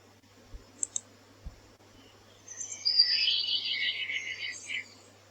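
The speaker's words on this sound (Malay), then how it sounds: "Bunyi burung." A bird chirps in a bright, fluttering burst over a quiet background, preceded by a few faint clicks.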